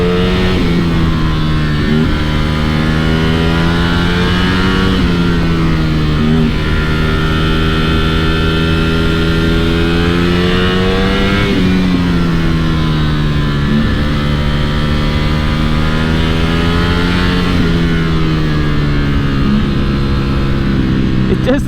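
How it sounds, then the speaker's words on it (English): A Ducati Streetfighter V4 S sport motorcycle engine revs loudly and continuously, its pitch swelling and falling in several long sweeps, close by and dominating. "with how exotic this motorcycle sounds"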